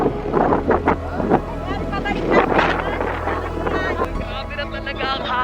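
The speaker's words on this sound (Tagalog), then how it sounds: "Grabe na talaga ang hangin!" Strong wind buffets a boat off Infanta, Quezon, with steady microphone rumble and gusts under excited voices talking and shouting throughout.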